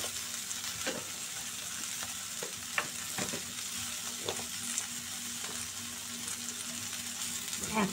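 A spice mix with cumin powder fries in a pan with a steady soft sizzle, punctuated by occasional scraping taps of stirring, close and moderately quiet.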